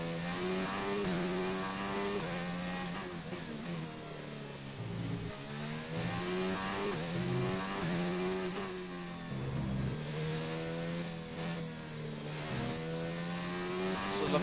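An F1 racing car drives the Hungarian GP circuit, its engine note rising and falling steadily through gear changes and corners, held at an even level for the whole stretch without talk.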